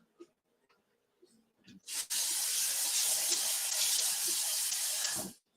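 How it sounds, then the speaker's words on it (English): Water gushes steadily from a tap over frozen shrimp for several seconds, a loud broad hiss that starts abruptly after a few faint clinks and stops sharply. "what I'm going to do with these is put them in warm water"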